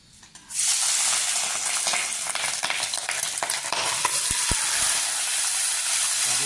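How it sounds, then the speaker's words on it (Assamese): Pork meat hits a hot pan and erupts into a loud, continuous sizzle that holds steady for several seconds, with a few stirring clicks near the end. "আমি মাংসটো ফ্ৰাই কৰি ল'ম অলপ"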